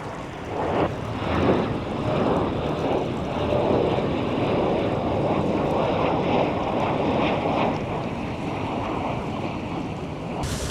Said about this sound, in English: All right, there comes a plane.